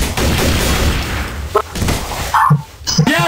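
Gunfire in the video game Trouble in Terrorist Town, a dense burst of loud shots at the start giving way to a few sharp separate bangs, with brief voice-like sounds in between.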